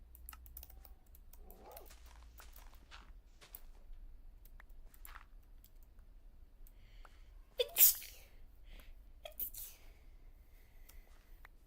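One sharp, close sneeze bursts out over faint, scattered clicks from a computer keyboard during a Minecraft session, followed by a few more light taps.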